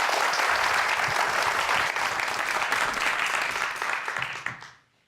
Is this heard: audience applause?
yes